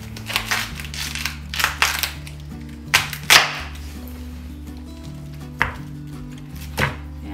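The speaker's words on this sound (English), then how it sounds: "I will cut this in half, and you will see that the head of cabbage is so fresh" A knife cuts through a fresh head of cabbage for sauerkraut, giving several sharp, crunchy cutting strokes close by, spaced out with quiet gaps and no talking.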